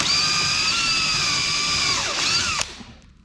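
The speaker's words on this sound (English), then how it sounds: "I'm going to set the bit into the hole, but not against where I need to cut, and start it there." A power drill whines steadily at high speed, boring door ferrule holes on an FFR MkIV Roadster, dips briefly in pitch under load, then cuts off and spins down.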